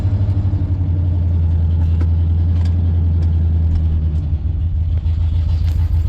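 Engine of a 1994 Ford F-50 4WD truck with a misfire, a loud close low rumble that holds steady as the truck pulls away, with small dips and uneven pulses in the drone.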